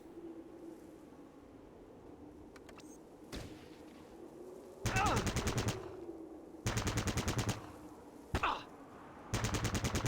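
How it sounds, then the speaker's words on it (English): Video game burst-fire gunshots come in several rapid rattling volleys, loud and close, separated by short pauses, over a low ambient game hum. "Go back to burst fire."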